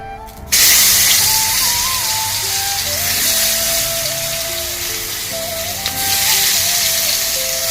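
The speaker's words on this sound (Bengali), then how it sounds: "তো দেখো, আমি বেগুনগুলো ভাজতে চাপিয়ে দিয়েছি।" Eggplant slices frying in a pan give a loud, steady sizzle that bursts in after half a second and hisses on without a break, with a faint melody running underneath.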